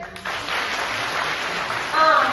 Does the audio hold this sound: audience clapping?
yes